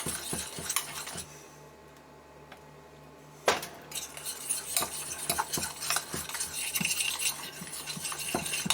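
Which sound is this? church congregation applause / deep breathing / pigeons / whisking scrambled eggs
whisking scrambled eggs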